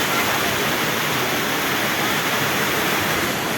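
A fast-flowing stream at Shiv Khola rushes in a loud, steady, close wash of water with no pauses and no voices.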